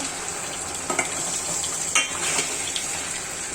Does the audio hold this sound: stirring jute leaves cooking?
yes